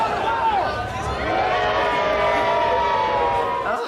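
A crowd cheers and shouts in old archive film of an annual tradition where a councillor weighing 20 stone is weighed, with a dense, steady roar of many voices lasting throughout.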